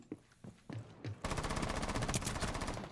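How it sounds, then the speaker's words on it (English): Gunfire in Rainbow Six Siege opens with a few scattered single shots, then breaks into sustained, loud automatic fire that continues to the end. "Someone out there shooting me."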